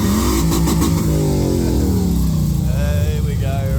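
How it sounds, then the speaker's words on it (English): A Holden Senator engine revs hard toward redline at a car meet, loud and close, with the pitch sweeping and falling as the revs drop amid background crowd noise. "Here we go, revving it up here. Couple of red lines in the Senator."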